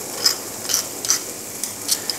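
Crushed garlic stirred in a hot pan as part of a lamb ragout, with a soft background sizzle and several brief scraping clicks of a utensil against the pan, close and without talk.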